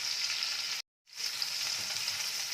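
Onions fry with a little salt in a pan for an okra and prawn dish, making a continuous bright sizzle that cuts out briefly for a moment and then resumes just as strongly.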